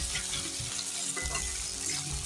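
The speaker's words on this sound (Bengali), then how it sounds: "আলু আর গাঁটি কচুটা আমি দিয়ে দিয়েছি, দিয়ে ভালো করে আমি ভেজে নেব" Loud, steady sizzling of potatoes and taro frying in a pan, with occasional stirring scrapes and no voices.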